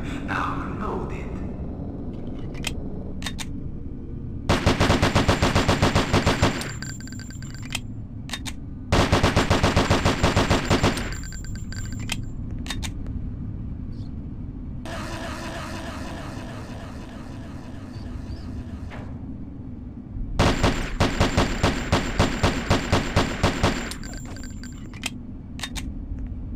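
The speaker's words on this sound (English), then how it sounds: "Fine semi-automatic 9mm pistol. This model is used by military and law enforcement units worldwide." Rapid bursts of 9mm semi-automatic pistol fire on a training range in Hitman: Codename 47, four loud close volleys separated by quieter pauses with low background hum.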